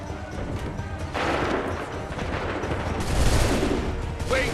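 Musket volley gunfire in the Assassin's Creed III video game, a dense sustained crackle of many shots firing together and rolling on, loud and close, with no talk over it.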